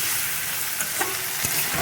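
Chicken masala sautés and gets stirred in a pan, a dense close sizzle broken by a few scraping stir strokes, with no talking.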